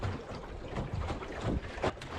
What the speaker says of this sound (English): It's a nice little leisurely gust with a few little gusts to boot